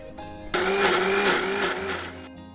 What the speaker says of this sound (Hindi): ये 1 कप स्वीट कॉर्न है जिसको मैं मिक्सर जार में ले रही हूँ और मुझे इसको पीसना है।